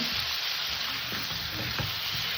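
Vegetables seasoned with salt and turmeric stir-fry in a pan, giving a steady close sizzle throughout with soft scraping stirs. No one speaks.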